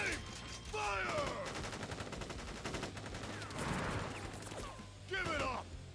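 Troops fire rapid volleys in Crisis Core: Final Fantasy 7 Reunion. Dense machine-gun-like bursts run almost continuously, with whizzing effects and voices mixed in.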